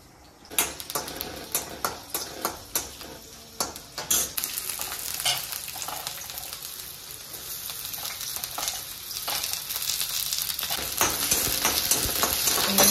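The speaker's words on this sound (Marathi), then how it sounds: "प्रथम कटाची तयारी करू, अद्रक तळून घेऊ।" Ginger fries in a pan, with a row of sharp clinks from stirring in the first few seconds, then a steady sizzle that grows gradually louder and denser.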